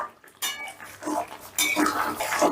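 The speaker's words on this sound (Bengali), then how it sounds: "এবারে সমস্তটা আবারও একটু মিশিয়ে নিচ্ছি।" A spoon clanks and scrapes against a cooking pot while aloo dum curry with moong dal is mixed, with a few close, sharp metallic knocks and short stirring scrapes.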